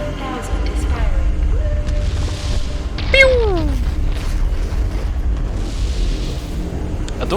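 The BFG 10,000 in the Doom video game fires with a deep booming rumble and a sharp descending whoosh, set among game sound effects and under low voices.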